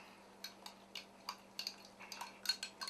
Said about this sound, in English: We're going to stir this up, just like this.